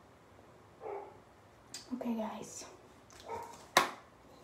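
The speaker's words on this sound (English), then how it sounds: "That's our neighbor's dog." A neighbour's dog barks a few times at a distance, faint and scattered, while a person speaks nearby.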